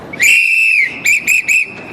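A whistle is blown loud and close at a press conference: one long shrill blast followed by three short sharp toots in quick succession.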